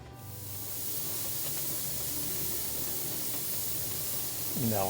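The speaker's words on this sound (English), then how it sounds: "Now our water has come up to temperature and it's been steaming for 10 minutes." A pressure cooker on a home kitchen stove gives off a steady, even hiss of steam that holds unbroken for the whole stretch, with a faint low hum beneath it.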